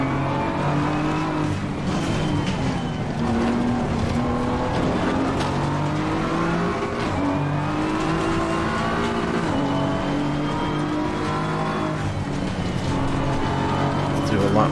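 Race cars roar around the track in Assetto Corsa Competizione, steady engine drones rising and falling in pitch as they accelerate and shift, with opponents passing close by and a voice talking over the din.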